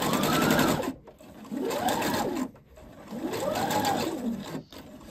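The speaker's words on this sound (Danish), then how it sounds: "og så syr vi ned over her" Sewing machine stitching down a French seam on fabric for a homemade net, three sustained whirring runs broken by short pauses, close and loud with no talk.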